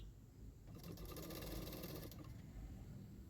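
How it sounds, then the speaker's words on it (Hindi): A sewing machine stitches a blouse sleeve with a half-inch seam margin, running in one quiet, even burst of about a second and a half against a faint background hum. "1/2 इंच मार्जिन रखते हुए स्लीव को सिलाई कर लेना है।"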